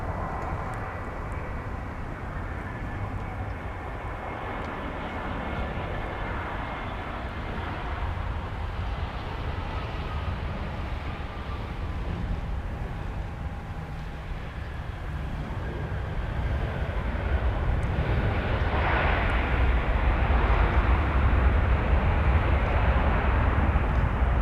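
A jet airliner landing at MSP airport, heard as a steady broad roar with faint whining tones that grows louder toward the end, distant and continuous with no talk.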